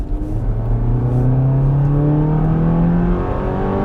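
A loud Mazda car engine revving hard, its pitch climbing steadily as it winds up. The rough, droning engine note sounds close and steady for several seconds, with no voices over it.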